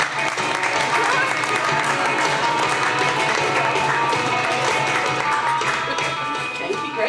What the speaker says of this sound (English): Please give a huge round of applause for Greg Howell.